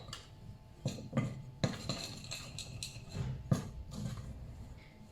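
Spoon scraping and knocking around a bowl while water is worked into a dessert dough, with repeated clinks and thuds in an uneven rhythm, close and moderately loud with no talk.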